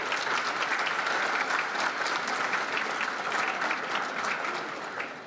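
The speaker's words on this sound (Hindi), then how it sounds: "एक बार तहे दिल से जोरदार ताली के साथ सभी लीडर्स का स्वागत करें।" An audience at a Chandigarh University Uttar Pradesh event gives a sustained round of loud, dense applause to welcome industry leaders, with steady clapping that tapers slightly at the end.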